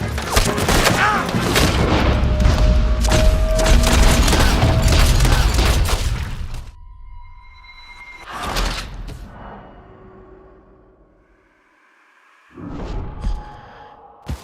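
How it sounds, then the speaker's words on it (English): Gunfire in the video game Red Dead Redemption 2 erupts as a loud, dense volley of shots for several seconds, then drops to scattered booms and a few quieter bursts. "Open fire on him!"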